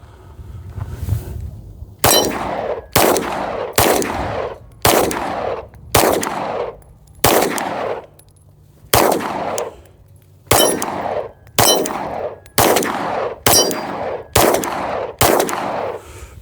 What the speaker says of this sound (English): let's go ahead and put some rounds on this target and just see how she performs